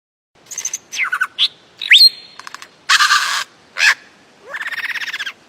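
A lyrebird gives a varied run of calls: sharp chirps, a rising whistle, buzzy rattles and a rapid trilling series, loud and close with brief gaps.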